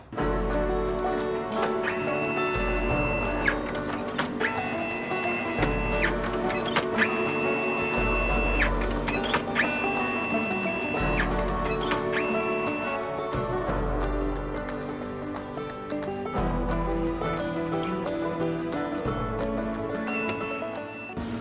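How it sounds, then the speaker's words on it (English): Webbing cutter machine cutting rolls of webbing to set lengths, loud repeating mechanical cycles with regular thumps and clacks every couple of seconds over a whirring motor hum. "That's a webbing cutter."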